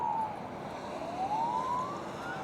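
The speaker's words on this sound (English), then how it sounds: "After the truck, an ambulance goes past." An ambulance siren wails past in the street, its rising and falling tone sweeping clearly over steady traffic rumble, fairly loud and close without any talking.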